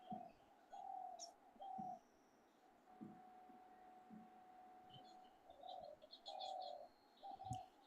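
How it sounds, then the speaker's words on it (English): A bird coos repeatedly in the background, several soft, moderately distant calls spread through a quiet room setting, with faint chirps and small noises between them and no one talking. "I can hear a bird"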